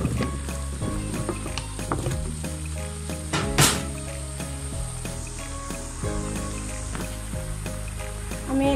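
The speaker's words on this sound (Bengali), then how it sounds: "এখন আমি এর মধ্যে লাউটা দিয়ে দিচ্ছি, যে লাউটা আমি কেটে রেখেছিলাম।" Chopped bottle gourd hits a hot pan with prawns and sizzles loudly and steadily, with scraping and stirring clatter against the pan throughout.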